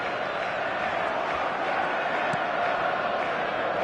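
A stadium crowd in the PES football video game keeps up a steady, even roar of cheering, with no voices standing out, across the whole stretch.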